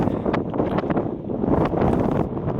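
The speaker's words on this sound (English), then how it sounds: "weather is pretty windy" Steady wind roars and buffets the microphone at an outdoor F5J glider competition fly-off, a dense low rumble with gusty surges throughout.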